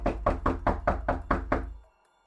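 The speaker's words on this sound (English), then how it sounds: "Later, I heard a loud knock on the door." Seven loud, sharp knocks on a door in quick, even succession, close and alone, then silence, set in a dorm horror story.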